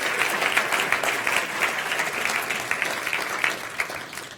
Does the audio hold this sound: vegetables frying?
no